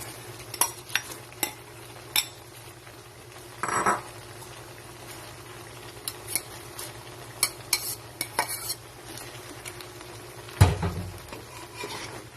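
Cabbage goes into a pan of chopsuey vegetables and is stirred, with a faint steady sizzle under scattered light clinks and scrapes of a utensil on the pan, plus one louder clatter near the end; no talk.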